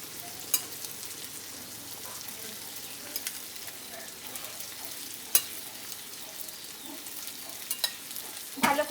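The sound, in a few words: cooked rice added to pan and stir-fried for fried rice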